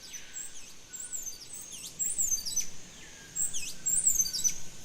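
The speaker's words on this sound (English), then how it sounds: "A male streak-throated hummingbird uses its enchanting song and simple display to attract potential mates." A male streak-throated hummingbird sings repeated thin, high sweeping notes in steady phrases, clear against quiet forest ambience near an Amazon river.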